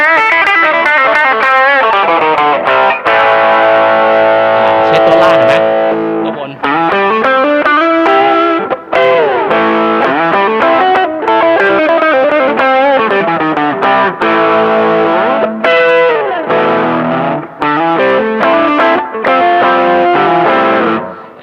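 An electric guitar played through heavy overdrive distortion, loud and sustained, with chords and bending notes ringing out continuously.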